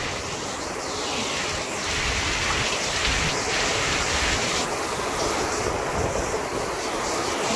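Steady heavy rain pours down in a village in Chiang Kham, Phayao, Thailand, a dense continuous hiss that rises slightly in strength, with no voices.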